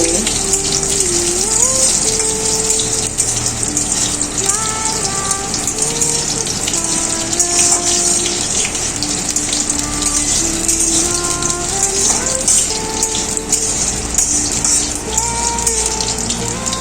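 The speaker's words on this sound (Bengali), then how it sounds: "এবার আলুগুলোকে হালকা ভেজে নেব।" Diced potatoes hit hot oil with cumin and bay leaf in a pan, giving a steady, loud sizzle and crackle that runs the whole time, with some faint tonal background music under it.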